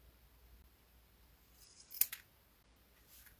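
Scissors cut through quilting fabric in one quick, crisp snip partway through an otherwise near-silent room.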